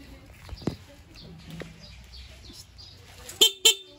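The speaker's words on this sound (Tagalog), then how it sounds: "Yan yung stock horn natin ha." Two short, sharp beeps from a vehicle's stock horn near the end, following quieter mechanical clicks and faint background noise.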